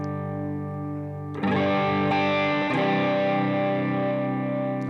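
An electric guitar runs through an overdrive preset with a boost and higher gain on a Valeton GP-50 multi-effects unit. A loud, sustained, distorted chord rings out and is struck again twice, ringing thick and saturated.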